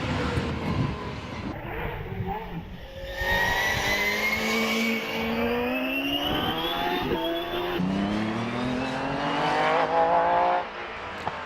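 A hillclimb race car with a Cosworth XD engine of about 550 to 600 horsepower runs at Prescott, its engine screaming through rising gear sweeps and shifts, loud and fairly close.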